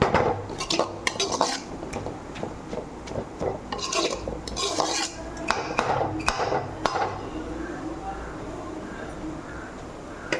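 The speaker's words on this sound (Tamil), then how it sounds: "பாருங்க இந்த மாதிரி நல்லா கலந்து விட்டுக்கணும்" A spoon scrapes and clanks against a pan while spinach and chana dal are mixed, giving irregular metallic clinks and rubbing over about ten seconds, loudest early and tapering off into a softer steady stir.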